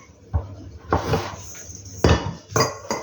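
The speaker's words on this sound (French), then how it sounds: "on va chercher un saladier dessous. Gros saladier." A large mixing bowl is pulled out from a cupboard under a kitchen counter, giving a few sharp knocks and clinks of the bowl and cupboard, close by, spread over about three seconds.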